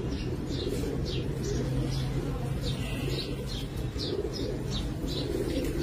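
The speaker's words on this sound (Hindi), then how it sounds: "ये मिसाल किस्म दी कबूतरी है।" A domestic pigeon of a Misal breed coos in a loft, with soft repeated low calls and higher chirps against a busy background rumble, while a voice talks.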